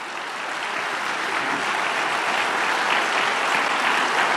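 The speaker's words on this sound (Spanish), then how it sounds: "Denle un aplauso al Señor." Dense, steady applause fills the room throughout as a church congregation claps during a Spanish-language sermon, loud and continuous with no voices rising above it.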